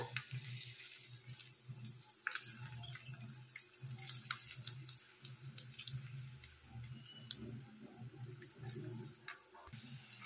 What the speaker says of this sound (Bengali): তেলটা আমার গরম হয়ে গেছে। আমি এবারে একটা একটা করে ভেজে নেব।